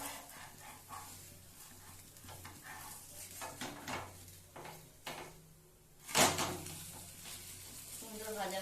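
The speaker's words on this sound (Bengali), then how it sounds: "একটা পিঠ সুন্দর ভাজা হয়ে গেছে" Semolina snack frying in a pan, a soft low sizzle with occasional scrapes and clatters, a sharp clack near the end, and a dog barking faintly in the background.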